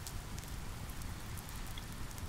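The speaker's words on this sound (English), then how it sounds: "this rain tonight has given me the rest I needed" Steady rain falls on a shelter at night, a dense continuous patter with occasional brighter drop hits, moderately close and even in level with no voices.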